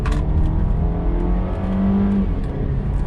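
A Volvo S90 sedan accelerates through corners, its engine a steady strong hum with a low rising tone under road and tire noise, heard from inside the cabin.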